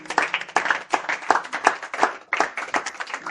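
A church congregation claps in a steady, lively rhythm, the applause close and full, with bursts of hand claps filling the whole moment and no talk on top.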